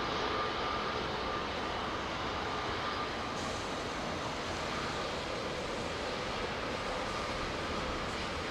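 A Boeing 777-200 with Pratt & Whitney PW4 engines moves on the ground at Heathrow. A dense, steady engine roar carries a faint whining tone and stays close and continuous, with no voices.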